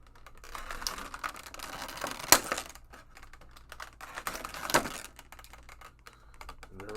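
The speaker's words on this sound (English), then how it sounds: "All the zip ties are cut out." Zip ties are snipped off McFarlane Toys Suicide Squad figure packaging, producing a scatter of close, sharp plastic clicks and snaps with a couple of louder cuts, irregular and without talk.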